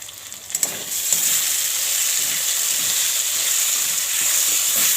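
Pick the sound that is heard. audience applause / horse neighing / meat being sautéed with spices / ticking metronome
meat being sautéed with spices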